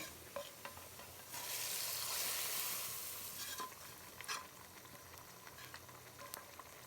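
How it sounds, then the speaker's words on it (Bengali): Fried tempering poured into lentil dal made with taro leaves, a sudden loud hissing sizzle that swells for about two seconds and then settles into quieter bubbling, with scattered clinks from stirring. "ফোড়নটা ভাজা হয়ে গেছে, এখন আমি এটা ডালে দিয়ে দেবো।"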